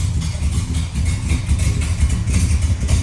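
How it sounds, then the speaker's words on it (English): A 1969 Chevelle SS 396 muscle car engine idles steadily up close with a deep, even rumble and no talking. "Car's got a great sound to it too."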